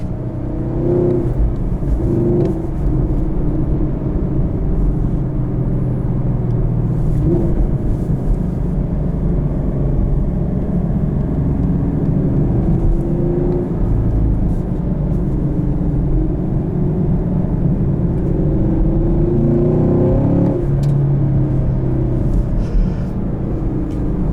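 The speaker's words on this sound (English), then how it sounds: "Wind buffeting." Wind buffets the cabin of a 2017 Chevrolet Camaro SS with a manual transmission while driving. A loud, steady, low rumbling roar fills the whole stretch without pause.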